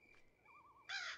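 A crow caws from the Granny 3 video game, a wavering mid-pitched call that ends in a loud, harsh caw close at hand, over a quiet game background.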